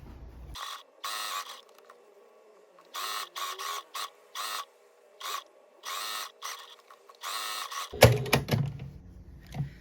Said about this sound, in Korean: 여기서부터 이렇게 쭉 둘러서 박음질 해주시면 됩니다